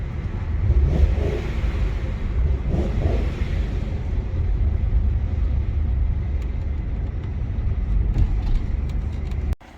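A 2000 BMW E39 M5 engine idles and rumbles steadily, low and fairly quiet, with a smooth continuous drone throughout.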